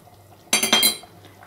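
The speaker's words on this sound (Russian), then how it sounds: "Перемешиваем." A spoon clinks and scrapes against a pot while potato and beef roast with dill is stirred, one short burst of metallic clatter lasting about half a second in a quiet kitchen.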